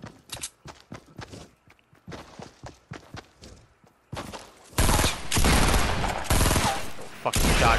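Fortnite shotgun blasts in a solo battle royale match, several sharp cracks spaced among footsteps and clatter, followed by a long loud roaring wash of noise.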